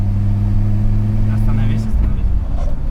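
An Audi S4 engine with a smoking, faulty motor held at steady revs under load with a loud low drone that drops away after a couple of seconds, while people talk inside the car.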